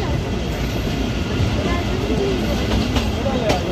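The TezGam Express rolls on the rails from Lahore to Raiwind with a dense, continuous rumble and hiss, faint rhythmic wheel knocks, and muffled indistinct voices underneath.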